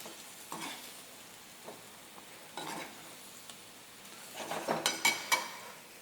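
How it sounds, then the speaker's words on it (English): Yellow chilies and onions stir-fried in a pan for lomo saltado: a quiet, faint sizzle with occasional stirring scrapes, then a burst of sharper clinks and tossing near the end. "We have here the yellow chilies and the onions. We mix this up again."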